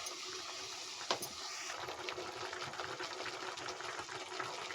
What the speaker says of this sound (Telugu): బాగా ఉడుకుతుంది ఫ్రెండ్స్.